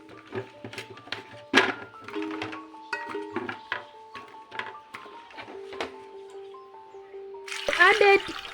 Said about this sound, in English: added right amount of water.